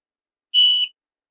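A single short electronic beep, about a third of a second long and clean and steady, sounds from an IBM PS/2 Model 8525 computer running its diagnostic while booting.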